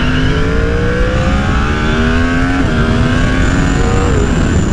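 A 2020 Yamaha R1 sport bike engine roars loud and close, holding a continuous high rev with rising and falling pitch and no pauses.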